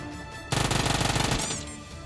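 A rapid automatic burst of gunfire in PUBG Mobile rattles out close and loud for about a second of evenly spaced shots, then fades into a short ringing tail.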